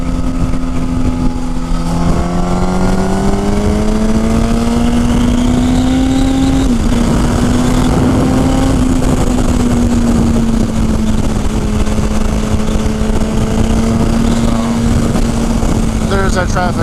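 A motorcycle engine running rough and down on power while riding through city traffic, a steady loud drone with slowly shifting pitch as it accelerates and eases off, with wind noise throughout.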